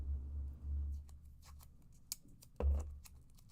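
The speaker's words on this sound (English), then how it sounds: "So this is going to be the one that we cut out of here." Scissors snip a card out of paper in a run of short, crisp cuts. A low hum sits underneath, and a louder thump lands near the end.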